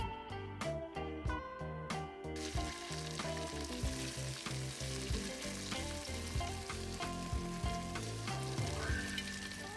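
Beef browns in hot oil inside an Instant Pot with a continuous crackling sizzle and frequent spattering pops, close and fairly quiet, with occasional stirring.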